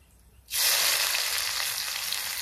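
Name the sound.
chopped onions frying in hot oil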